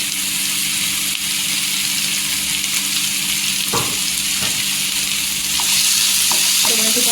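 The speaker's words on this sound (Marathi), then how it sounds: "इथे तेलावर परतलेली आहे इथे टोमॅटो टाकायचा" Tomato sizzling and frying in hot oil for a Maharashtrian dry sukat dish, a steady broadband hiss with a few stirring knocks near the end, close and continuous with no talk.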